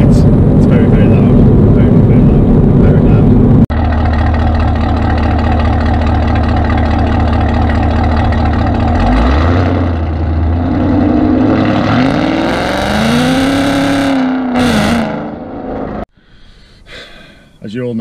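A 2018 Chevrolet Camaro ZL1 V8 with Kooks headers and a full exhaust system, loud and close, idling, then revving up and down in rising and falling sweeps before cutting off abruptly near the end.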